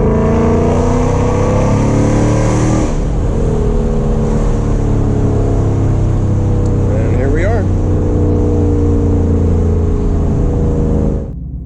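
A 2017 Ford Mustang GT V8 engine on a street run, holding a loud steady drone, then a sharp burst of acceleration with a rising whine, staying loud and close throughout with a voice briefly audible over it.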